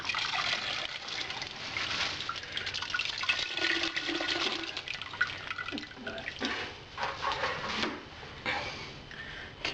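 Wort drains from a squeezed grain bag during a partial-mash pale ale brew, a continuous close splashing and trickling pour of liquid into a pot, with small drips and spatters changing in strength throughout.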